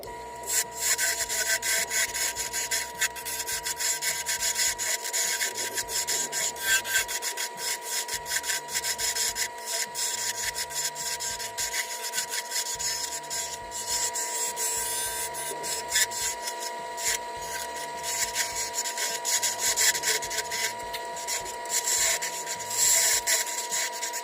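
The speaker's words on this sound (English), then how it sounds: "I call it the gouger, so I'm kind of just gouging out wood" A lathe gouge scrapes and shaves a spinning piece of wood for a tornado popper fishing lure, a continuous close rasping drone with rhythmic pulsing as the tool works the turning blank.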